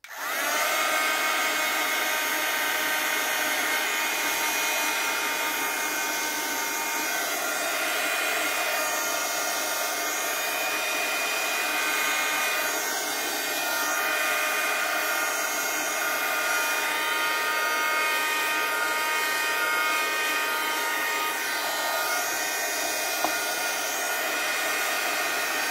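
A hair dryer-style blower dries paint on a craft page, its steady whine and rushing air holding unbroken and close for about twenty-five seconds with no talking.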